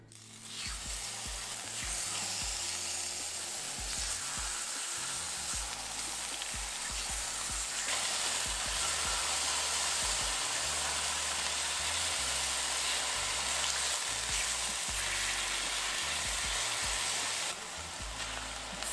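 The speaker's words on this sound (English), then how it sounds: "we're gonna place it on our hot pan and we're gonna sear it on each side for 1 minute." Marinated beef sears in a hot pan, giving a loud, dense sizzle and crackle that runs without a break, with small pops and a faint scrape as the meat is moved.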